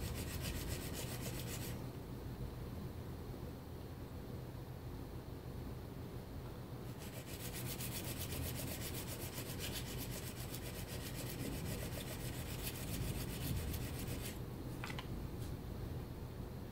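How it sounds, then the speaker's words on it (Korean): Steady, gritty scraping of a plane blade being stroked back and forth over fine 1000-grit sandpaper, a continuous rasping rub with occasional pauses. "1000번 사포로 옮긴 다음에"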